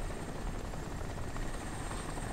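A helicopter in the video game Crysis drones with a constant rotor thrum and engine whine, steady and fairly close, with no voices over it.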